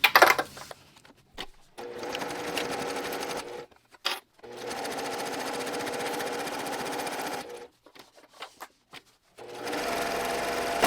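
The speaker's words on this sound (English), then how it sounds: "I'm actually sewing on the foam right now" A sewing machine stitches through foam and fabric for a sunglasses case, running in several steady bursts with brief pauses between them, close and moderately loud.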